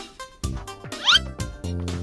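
In the video game Order 13, a cat gives one short rising meow over blocky electronic game music and chiming tones.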